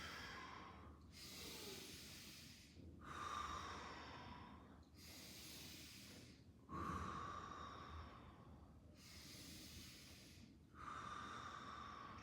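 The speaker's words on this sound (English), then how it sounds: "Breathing in through the nose, breathing out through the mouth" Slow breaths drawn in through the nose and let out through the mouth during a movement routine, about three full cycles with soft hissing exhales, close and quiet, no talking.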